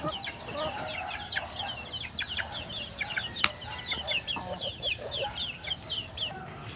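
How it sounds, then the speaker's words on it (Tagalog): Chickens cluck repeatedly at moderate distance in a garden, amid a busy outdoor backdrop of chirping birds and insect buzz, with no clear talking. "yung mga manok namin"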